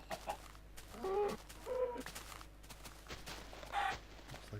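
Faint Minecraft chickens cluck a few times in short bursts over a quiet farmyard pasture ambience, with soft game footsteps in between.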